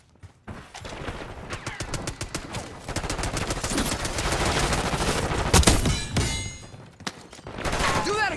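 Gunfire in a Call of Duty Black Ops 6 multiplayer match, with rapid automatic bursts and overlapping shots close by, pausing briefly between volleys, with a voice heard faintly among them.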